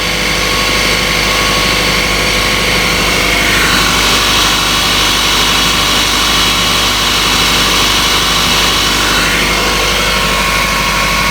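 A Toyota Camry's 4-cylinder 5S-FE engine idles with a steady, loud, continuous drone and faint whirring, recorded close and unchanged throughout, with no one speaking.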